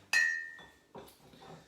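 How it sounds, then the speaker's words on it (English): A rocks glass set down on a bar surface with one sharp, bright clink at the start, followed by two softer knocks, close and alone during cocktail preparation of a blue bramble. "So I've got my rocks glass again."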